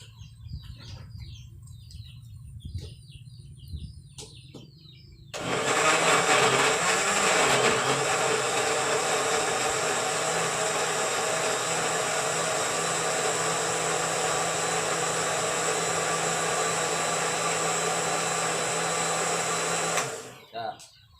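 An electric blender grinds ingredients for EMBIO soil fertilizer, starting abruptly with a loud, steady whirring roar that runs for about fifteen seconds and then cuts off, with quieter background sounds and birds chirping before it starts.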